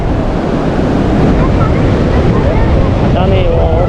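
High tide waves wash in at Baga Beach, Goa, as a loud, continuous surf roar mixed with heavy wind buffeting the microphone. Faint voices sit beneath the wash.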